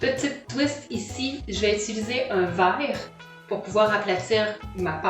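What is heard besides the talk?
No everyday noise stands out behind the speech.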